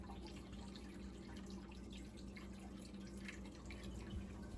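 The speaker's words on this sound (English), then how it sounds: "I'm supposed to pour water on the top layer and it's supposed to go down to the bottom until it gets to the max water level." Water trickles and drips down through the stacked layers of an indoor hydroponic garden in an apartment, a steady, soft, continuous wash of dripping with no voices.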